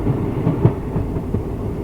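A Weekly Express passenger train running on tracks between Pondicherry and Mangalore, heard from inside as a loud, continuous low rumble with faint rhythmic clatter, no voices.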